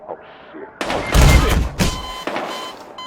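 Rival gang gunfire erupts in a video game: several sharp bursts of shots crack in quick succession, loud and close, with a voice talking over the shooting.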